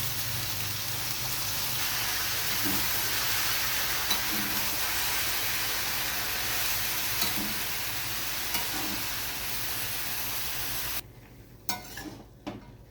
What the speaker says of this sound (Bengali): বাঁধাকপিটা ভালোভাবে আমি নেড়ে নিচ্ছি